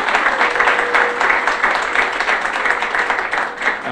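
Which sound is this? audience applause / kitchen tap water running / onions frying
audience applause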